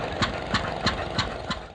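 Antique engine idling at a threshing bee engine show in Vista, California, with steady, even exhaust beats about three per second over a continuous low rumble, close and alone.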